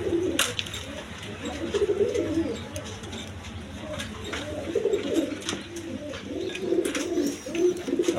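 A pigeon pair with their large chick coo in repeated low, rolling phrases close by, with a steady pulse of throaty calls and faint background noise.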